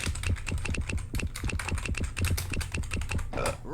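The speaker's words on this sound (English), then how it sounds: "When you know the answer, buzz in and start typing." Fast, continuous typing on a keyboard during a quiz, dense rapid key clicks in a steady close rhythm, with no voices.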